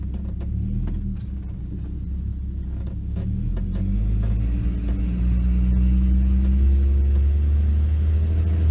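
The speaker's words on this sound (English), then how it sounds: "It really sounds substantial when you gun it." A 1986 Dodge Ram D100 pickup with a 3.7-liter slant six, catalytic converter and muffler removed, revs up, its deep engine rumble swelling and holding loud and close.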